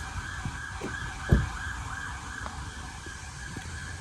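An ambulance siren wails steadily in the distance, faint and continuous, with low background rumble and a soft thump partway through.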